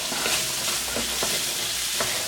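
Asparagus is stir-fried with garlic and ginger for a chicken-and-asparagus dish. Brisk spatula scrapes recur over a continuous hot sizzle, close and without talk.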